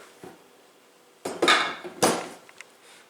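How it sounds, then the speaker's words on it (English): A dough hook being fitted onto a stand mixer while making sandwich buns: a faint tap, then two close metallic clanks and rattles of the attachment locking in place, with no talk. "attach the dough hook to your mixer"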